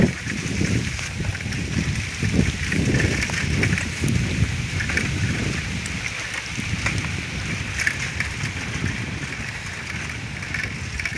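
Rain falling over a countryside village and a full pond, heard as a steady, dense hiss with low rumbling wash throughout, no voices.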